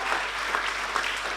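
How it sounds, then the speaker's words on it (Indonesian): Church congregation at a GBI Sunday service in Batam clapping together, a steady dense burst of applause filling the room. "Beri tepuk tangan lagi buat Tuhan kita."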